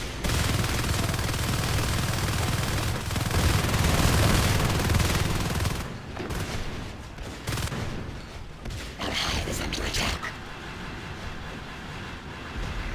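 Marines in Natural Selection 2 focus their fire, a loud sustained burst of rapid gunfire for about six seconds, then quieter scattered shots and game noise trailing off.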